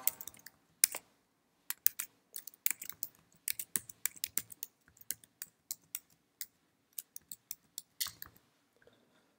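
Quick bursts of clicking keystrokes on a computer keyboard as an email address is entered, crisp and close, in irregular runs with short pauses, and no talk.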